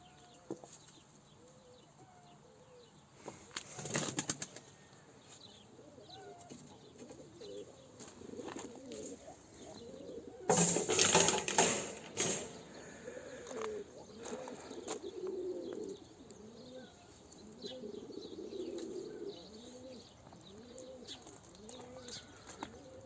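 Tumbler pigeons coo steadily in soft repeated phrases, with a loud burst of wing flapping midway, then more cooing continuing close by.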